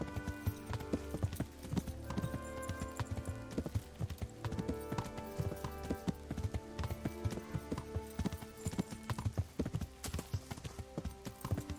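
Rapid rhythmic hoofbeats of a galloping horse in the video game Kingdom Come: Deliverance pound steadily and close, a continuous drumming clip-clop with no pause.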